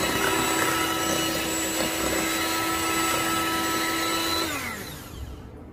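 Electric mixer blending Basque burnt cheesecake batter with vanilla extract, a steady loud whirring drone that holds for several seconds, then slows and fades near the end.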